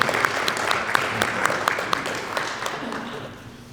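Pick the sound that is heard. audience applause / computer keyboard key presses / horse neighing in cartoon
audience applause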